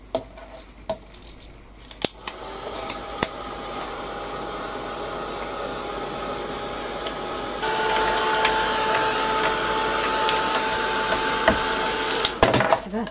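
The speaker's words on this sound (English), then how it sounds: "I'm going to give it a quick blast with the heat gun." A heat gun blows a steady, loud rushing roar over a paper craft tag for about ten seconds, with a few clicks and a slight rise in pitch partway through before it cuts off.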